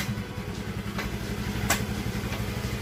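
A carbureted Honda Vario motorcycle engine idles steadily after a kick start, a low, even mechanical hum with a few brief brighter rattles over it.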